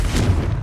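A Confringo blasting curse bursts in Hogwarts Legacy as a single loud, deep boom with a broad rumbling tail, heard alone at close range.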